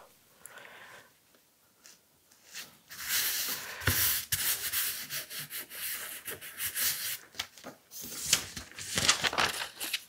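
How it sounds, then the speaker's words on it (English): Fabric is burnished onto an acrylic painting by hand: after a quiet opening, dry rubbing and scraping strokes come in uneven bursts, close and fairly soft, with no voices. "Again, I just put it down and burnish it."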